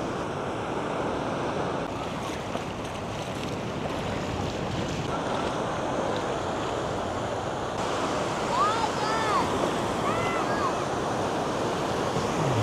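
Sea waves wash onto the beach at Phan Thiết in a continuous broad roar mixed with wind buffeting the microphone, with faint distant voices and a few higher calls late on.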